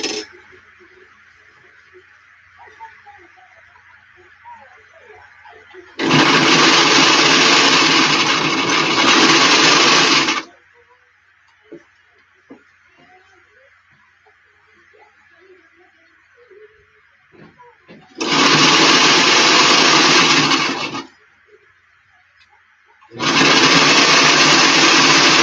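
A sewing machine stitching a flat cap runs in loud, steady bursts of several seconds each, separated by quieter pauses with light handling noise and a faint background hum.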